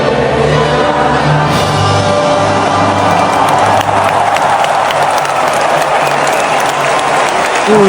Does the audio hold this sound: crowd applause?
yes